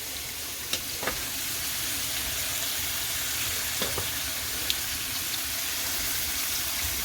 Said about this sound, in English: I'm just going to give it a little stir